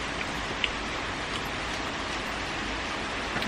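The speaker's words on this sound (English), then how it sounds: "It's raining." Steady rain pours down on a rainy day, a dense even hiss of drops with a few faint close taps, filling the whole moment without voices.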